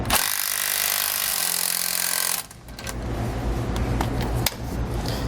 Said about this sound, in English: use the open end of my wrench to tighten